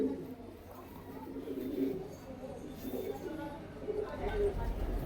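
Pigeons with white eyes coo softly around a loft, low murmuring calls repeating under a voice talking.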